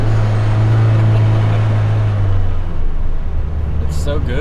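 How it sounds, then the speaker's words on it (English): A 2012 Mazdaspeed 3 with a COBB intake and turbo inlet drones loudly on a downshift, a steady low engine tone that dips and then rises as the throttle body opens, with road noise underneath. "Downshifts, you can hear a little bit of that kick of the throttle body opening up"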